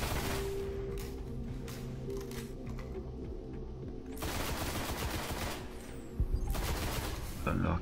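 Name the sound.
energy weapon fire in the video game Destiny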